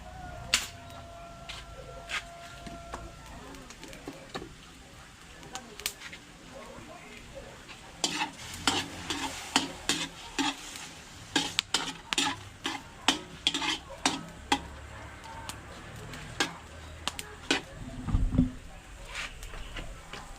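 Meat browning in a pan for batil patong, a sizzling fry under repeated sharp scrapes and clanks of a spatula stirring it, close by, sparse at first then busier, with faint voices in the background.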